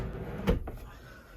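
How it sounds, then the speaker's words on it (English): A pull-out pantry cabinet on 45 cm ball bearing drawer slides shuts in a camper van kitchen, giving one short clunk with a quick click after it, close and fairly quiet. "these are 45 centimeters long ball bearing sliders. With 2 sets on, it's really like clunk click."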